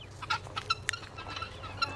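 Guinea fowl and other domestic birds cluck close by, a quick run of sharp, bright chirping clucks in irregular bursts over a low background hum, with no talk.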